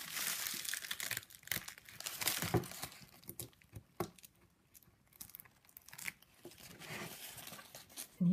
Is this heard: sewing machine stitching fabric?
no